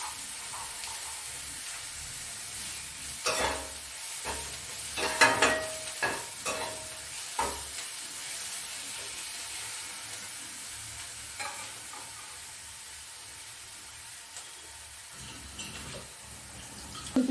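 Chopped onion with a spoonful of garlic paste sizzles steadily in a pan for an egg curry. A spatula scrapes and stirs in a few scattered clacks, with no talking.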